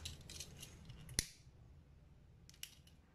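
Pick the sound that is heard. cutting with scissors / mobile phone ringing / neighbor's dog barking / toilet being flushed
cutting with scissors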